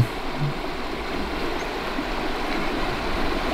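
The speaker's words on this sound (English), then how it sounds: "first up we got a really nice creek" Steady rushing of a well-filled creek at Cache River, a constant broadband wash of water without pauses, moderately loud and close.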